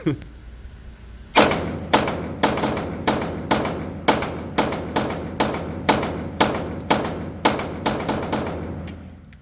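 A pistol emptying a full 17-round magazine at a range, sharp loud shots in a steady rapid rhythm of roughly one every half second, each with a short ringing tail, after a quiet lead-in.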